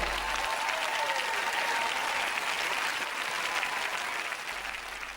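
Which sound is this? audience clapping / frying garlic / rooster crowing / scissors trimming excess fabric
audience clapping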